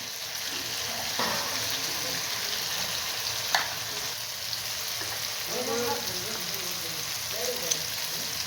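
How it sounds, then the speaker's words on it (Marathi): Spiced moth bean curry with mutton masala, red chilli and coriander powder sizzling and frying in a pan, with steady continuous sizzle and occasional stirring scrapes, while someone talks intermittently over it. "आता छान परतून घेते"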